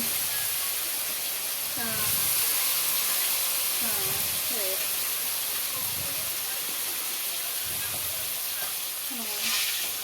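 Rohu fish mixed with spices and green chillies cooks in a pan on a stove, giving a steady soft sizzle and hiss, with faint intermittent voices in the background.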